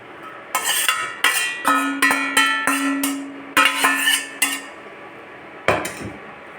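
A ladle knocks and scrapes against a metal pot while rice with mixed greens and paneer is stirred. About a dozen close, rhythmic metallic clinks come in two runs, then a pause and one last clatter, with no talk.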